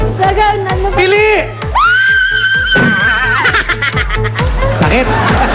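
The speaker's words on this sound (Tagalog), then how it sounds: "O, isang tili mo na." A woman screams on request at a noisy game-show event, her shrill sustained cry rising over an excited crowd with laughter, cheering and a thumping music beat throughout.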